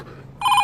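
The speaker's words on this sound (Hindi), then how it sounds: "ये लो घंटी बजी" A telephone bell starts ringing abruptly partway through, a bright, steady electronic ring that is loud and close after a brief quiet lead-in.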